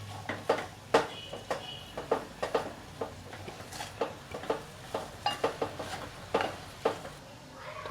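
Crumbled millet rotla with garlic chutney and chillies frying in a pan, Kathiyawadi style, heard mostly as a steady run of close spatula scrapes and clinks against the metal with a faint sizzle underneath.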